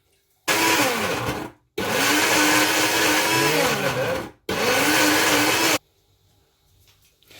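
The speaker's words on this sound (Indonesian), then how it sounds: "Ini sudah siap untuk di blender." An electric blender grinding rendang spice ingredients, including cloves, in three loud continuous bursts separated by short pauses, then stopping.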